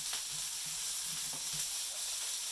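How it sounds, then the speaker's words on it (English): Vegetables sizzle and hiss steadily in a frying pan as they are stir fried for miso ramen. The frying noise is even and continuous, and nobody speaks. "we're just going to put the old veggies in and give them a stir fry"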